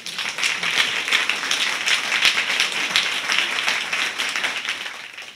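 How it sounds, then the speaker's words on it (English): Audience applause at a Writers Resist poetry reading in Los Angeles: dense, steady clapping from a sizeable crowd, sustained for about five seconds and fading at the end. "Again, please, a round of applause for all of our readers today"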